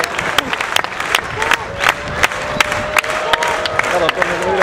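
At a sports match, a crowd claps in sharp, roughly rhythmic bursts and cheers, fairly close and loud, with people shouting and talking over the din.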